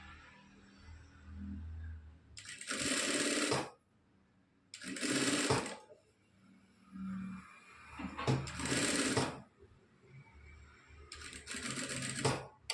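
A sewing machine stitches a blouse seam in four bursts of fast, close mechanical whirring, separated by short pauses, with quiet handling noise between runs.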